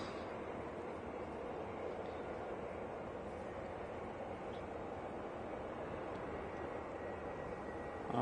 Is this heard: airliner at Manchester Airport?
yes